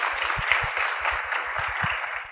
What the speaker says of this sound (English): let's give a round of applause for our amazing panelists